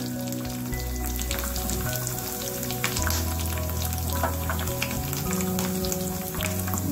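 Urad dal, curry leaves and ginger pieces crackle as they fry in hot oil, a steady dense sizzle that carries on without pause, close and even in level, with a low hum underneath and no one talking.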